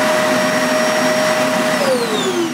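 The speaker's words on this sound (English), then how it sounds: "I can turn the machine on by pressing bare floor, or possibly pressing that as well" An AEG Electrolux Nimble upright vacuum cleaner running, a loud steady motor whine with a constant hum that shifts pitch slightly near the end, close and alone.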